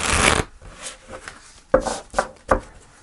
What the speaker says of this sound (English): Let's shuffle one more time.